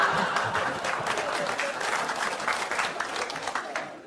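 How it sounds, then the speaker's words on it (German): Audience applause at a cabaret show, a dense, steady wash of many hands clapping close and loud for about four seconds, with faint laughter mixed in. "das war jetzt für Meerbusch schon erstaunlich viele Klatscher an der Stelle."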